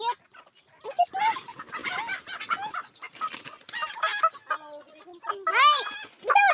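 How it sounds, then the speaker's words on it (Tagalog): Chickens cluck and squawk close by in a busy, overlapping chorus, with a rooster-like call near the end and a person's voice mixed in. "Dami manok. Manok namin."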